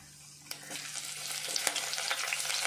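Mustard seeds, chana dal and curry leaves fry in hot oil in a kadai, giving a steady sizzle that builds over a few seconds, with scattered sharp pops and crackles close by.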